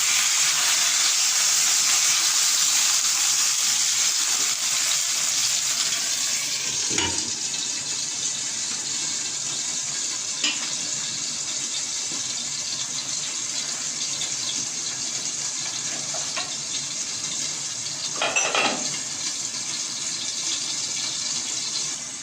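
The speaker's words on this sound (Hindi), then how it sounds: "ले जी चिकन जो है वो फ्राई हो रहा है।" Chicken frying in a pan, a steady loud sizzle running throughout with a few sharp clatters and stirring knocks partway through.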